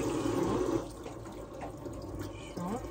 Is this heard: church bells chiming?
no